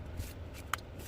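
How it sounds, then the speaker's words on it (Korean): A tarot card drawn from the deck: one brief, crisp papery flick near the middle, close and quiet over a soft steady background hum. "상대방의 입장 캐릭터 카드도 뽑아보도록 할게요"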